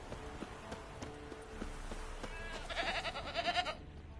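A goat tied to a stake as bait in The Witcher 3 video game lets out a nasal, wavering bleat near the end, after a stretch of steady background ambience with faint regular clicks.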